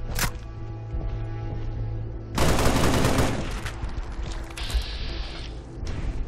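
Halo rifle gunfire from a Fallout 4 mod: a short, dense, loud rattle of shots mid-clip, set among mechanical clicks, creaks and reloading sounds, with a brief sharp crack near the start.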